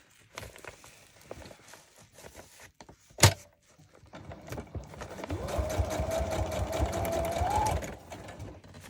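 A sewing machine runs a long stitch through a Halloween journal, its steady whirring hum holding for several seconds after scattered handling clicks and one sharp knock.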